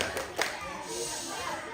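Children clapping hands during a party game at a birthday celebration, a few quick sharp claps at the start followed by quieter room noise and soft voices.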